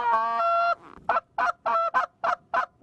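Geese honk by a lake, first one long sustained call, then a rapid series of about seven short, loud, evenly spaced honks close by.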